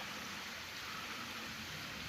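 A small waterfall in Alabama gives off a faint, steady wash of splashing water, continuous and even throughout with no voices.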